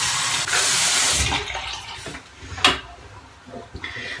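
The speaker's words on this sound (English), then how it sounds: "And then I rinsed off the puck." Water from a tap runs and splashes while a shaving soap puck is rinsed off, a loud rushing stream that breaks into shorter splashes and drips near the end, with no talk.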